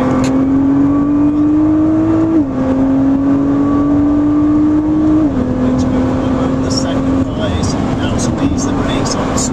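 Nissan GT-R R35 engine droning on a race track, its pitch climbing steadily under throttle with brief gear-change dips, loud and close, with someone talking over it.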